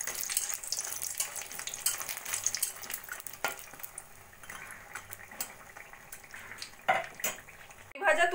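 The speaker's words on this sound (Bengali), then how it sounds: "বড়িগুলোকে আমি হালকা সোনালি করে ভেজে তুলে রাখবো" Lentil dumplings (bori) fry in oil in a kadai until light golden, producing a steady close sizzle and crackle, punctuated by a few clinks of a utensil against the pan near the end.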